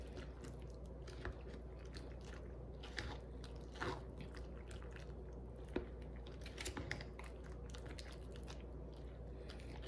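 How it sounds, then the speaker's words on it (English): A spoon stirs Mexican corn with lime juice in a cup, giving faint, irregular scraping and soft crunchy clicks over a quiet background hum. "We'll stir that baby around."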